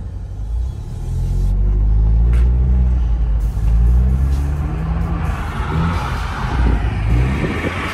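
A Ford Ecoboost car revs and rumbles loudly while drifting sideways in snow, engine roar swelling and holding close with deep low-end rumble.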